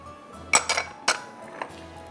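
Clinks and scrapes of utensils against a dish as chopped beans, cucumber with skin and black and green olives are mixed for a pulao salad, a few sharp clustered knocks close by with quiet gaps between.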